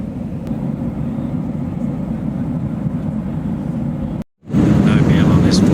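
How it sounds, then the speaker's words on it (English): Steady low roar of Boeing 737-800 airliner cabin noise in flight, loud and continuous, briefly cut to silence near the end before resuming. "Boeing 737-800."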